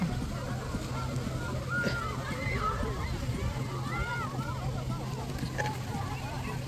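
Water sloshes and splashes where many people are swimming, with a steady wash of crowd chatter and distant voices over it.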